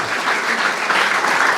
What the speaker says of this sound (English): So let's give applause for Berkeley